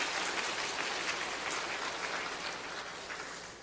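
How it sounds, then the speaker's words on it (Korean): A church congregation applauds its choir in encouragement, a dense, even roar of many hands clapping together at moderate level, easing off slightly toward the end. "격려의 박수 우리 찬양대에 한번 하겠습니다"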